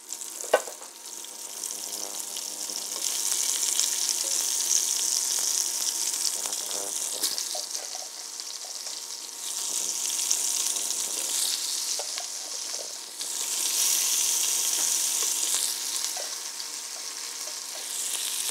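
Two onions fry in bacon fat in a pan, giving a steady, close sizzle and hiss that swells and eases as they are stirred, with occasional scraping clicks and no voices.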